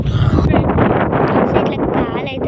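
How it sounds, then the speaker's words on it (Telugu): Strong wind gusting beside a bridge over water next to the Jogulamba temple, loud buffeting rumble battering the microphone steadily throughout, with a faint voice briefly underneath. "సో ఇట్లా గాలి అయితే మస్తు హార్డ్గా వస్తుంది."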